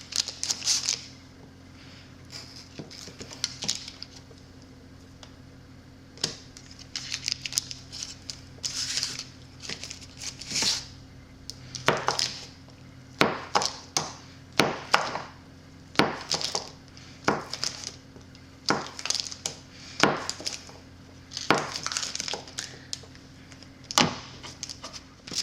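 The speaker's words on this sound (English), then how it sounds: "now I'm gonna cut this butter into the flour" Cold butter is cut into flour in a mixing bowl for strawberry biscuits. Many short scraping and clicking strokes come in irregular bursts over a low steady hum, close by and with no talking.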